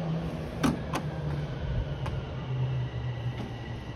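A northbound Toronto Rocket subway train runs near Sheppard Avenue West in Downsview, a low rolling rumble with a few sharp clanks and clicks scattered over about four seconds, steady and fairly close.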